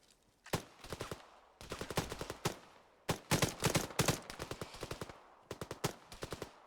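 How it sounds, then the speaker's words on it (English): Gunfire in the video game Antistasi: several rapid automatic bursts of sharp shots, grouped into volleys separated by brief gaps, close and punchy with no talking. "you are hearing my gunshots"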